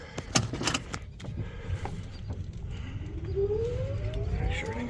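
An electric golf cart, badly damaged and touchy to control, sets off after a few clunks and rattles, its motor whine rising steadily in pitch as it speeds up, close by and alone.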